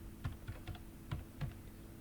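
Keys on a computer keyboard are pressed for a command, giving a quiet, close run of six or so distinct clicks at an uneven pace over a low steady hum.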